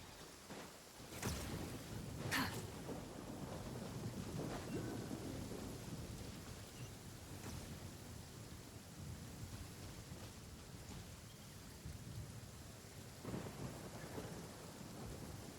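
Steady rain pours down in a video game while thunder cracks and rolls through, a couple of sharp claps early and distant rumbles later.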